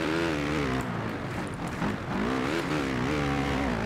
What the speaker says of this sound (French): J'entends la moto de Salle, j'ai l'impression qu'il est deuxième. Juste derrière, j'entends la respiration de son moteur.